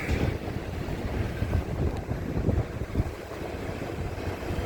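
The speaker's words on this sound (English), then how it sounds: "it's just the boat going back from here" Steady low rumble of a boat travelling back from Bell Island over water, with wind buffeting the microphone and faint wave wash throughout; no voices.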